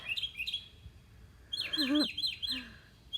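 Birds chirp in a garden yard in late May, including a mockingbird, giving short bright tweets and a quick descending run of calls, fairly close and with no one speaking.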